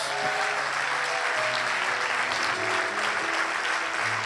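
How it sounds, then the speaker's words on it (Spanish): Congregation applauding at a Spanish-language Christian worship service, a dense, steady wash of many hands filling the space, with low music or voices faintly beneath. "Dale un aplauso al Altísimo Dios."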